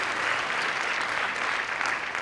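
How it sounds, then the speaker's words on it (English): Dense audience applause fills a jazz band concert at a university playhouse, steady and continuous throughout with no voices over it. "Let's give a round of applause for Loeb Playhouse for having the jazz bands back."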